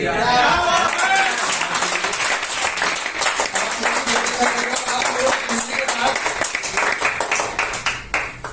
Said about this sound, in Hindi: हाँ, बहुत अच्छी तालियां बजा रहे हो भाई साहब, भगवान कसम बहुत अच्छी बजा रहे हो।